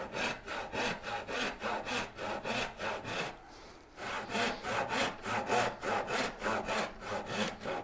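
A hand saw cuts a dado in wood for a Shaker Enfield cabinet, with rhythmic back-and-forth strokes, loud and close, a brief pause midway before sawing resumes steadily.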